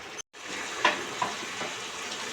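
Spinach with boiled radish, cauliflower and fried eggplant frying on high gas as Bengali palong shaak ghonto, a steady close sizzle broken by a brief dropout and a couple of soft stirring scrapes.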